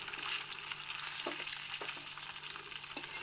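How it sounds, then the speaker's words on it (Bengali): Rohu fish pieces fry in hot oil, one by one, with a steady close sizzle and a few brief stirring scrapes, no voices. "তেল গরম করে আমি দেখো মাছগুলো এক এক করে ভেজে নিচ্ছি।"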